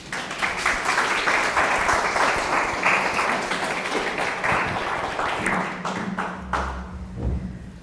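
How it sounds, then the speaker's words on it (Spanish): An audience breaks into loud, sustained applause welcoming a guest speaker to an evening talk in a Catholic setting, with dense clapping that thins toward the end as a few stray claps and a low murmur remain. "lo recibimos con un fuerte aplauso"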